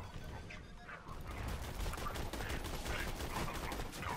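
Rapid gunfire from a Jakobs Bekah in Borderlands 2, a dense, continuous burst of shots that swells louder after the first second and keeps up steadily throughout.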